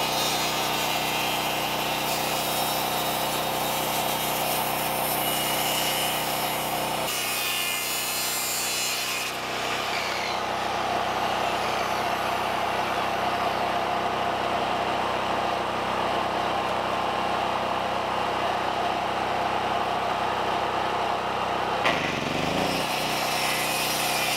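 A power saw cuts through a wooden batten during installation on an outdoor hobbit-style compost toilet, making a loud, continuous buzzing rasp that changes pitch partway through as the blade bites deeper and ends with a short break near the finish.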